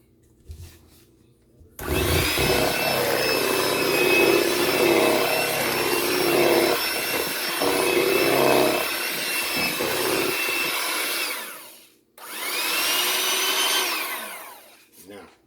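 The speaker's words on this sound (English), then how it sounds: "We'll blend it one more time." Blender whirring through pineapple cake batter, a loud steady motor run of about ten seconds that stops briefly, then spins up again for a short second burst.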